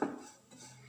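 Spoon clinking and scraping against a pan while pepper powder is mixed into an egg roast masala, a brief metallic clatter up front fading to soft stirring, close and fairly quiet.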